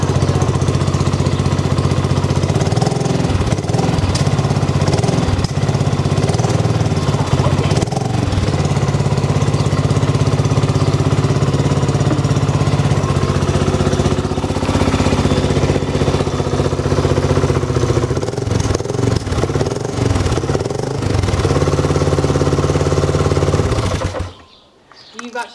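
A BSA Goldstar 650 single-cylinder motorcycle with a decat pipe runs at a loud, steady idle up close, the fast even thump continuing for over twenty seconds with a few small rev changes before dropping off at the end.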